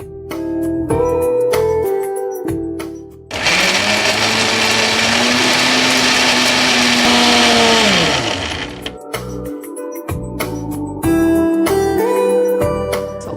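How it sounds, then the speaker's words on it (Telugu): A mixer grinder blending a smoothie roars loudly for about five seconds, its whirring motor pitch steady then dropping as it stops, with background music before and after. "ఇప్పుడు మనం దీన్ని మిక్సీ పట్టేసుకుందాం."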